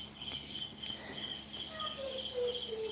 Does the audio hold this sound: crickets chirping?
yes